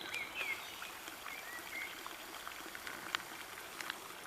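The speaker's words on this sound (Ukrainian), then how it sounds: "Шумить вода" Drinking water spills as a small waterfall from a tap beside an apiary among moss-covered tree trunks, a faint, steady rushing hiss with a few scattered bright chirps over it.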